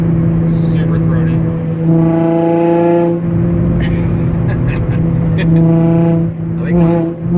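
Nissan 350Z exhaust with an ISR blast pipe, revved in several rising and falling pulls with a deep, throaty drone, loud and close, alone.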